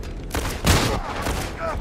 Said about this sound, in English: I'm running up there and I'm shotgunning them.